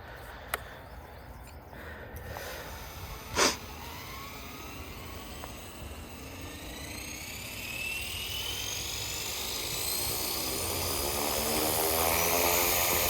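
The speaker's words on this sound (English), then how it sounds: "There's something about that helicopter noise it makes that's just so awesome" A Blade 230S Smart RC helicopter whines as its rotor spins up, the buzzing pitch rising and growing louder over time after a few sharp clicks.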